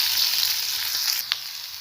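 Onion frying in hot oil with green chilies and garlic-ginger paste, a steady close sizzle that continues throughout with a brief stir or clink near the end, no voices.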